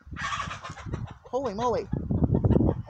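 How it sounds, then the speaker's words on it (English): Close-up clucking and warbling from roosters, mixed with brief excited talk, against a busy barnyard background. "My 2 little roosters are figuring it out that they are the only 2 roosters here now"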